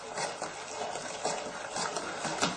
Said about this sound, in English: and then we can get our baking tin, grease it up, a little bit of butter, and then we can just pour this all in.